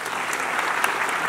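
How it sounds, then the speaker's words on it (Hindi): Dense, sustained applause from a large audience for the musicians at a stage event, loud and steady throughout without a break. "उनके लिए एक बार और जोरदार ताली"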